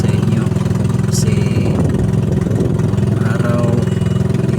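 A boat engine running steadily at sea on a spearfishing trip, loud and close with a constant droning hum throughout and no change in pace, with no one talking over it.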